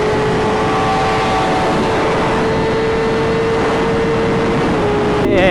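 A car cruises along a scenic drive with a steady engine hum and road rumble, a sustained tone running throughout and a brief disturbance near the end.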